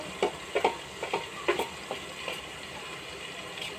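A spoon stirs turmeric and ground spices frying in a pan, giving a run of soft scraping strokes at an even pace over a low sizzle. The strokes are close and fairly quiet, and they thin out toward the end.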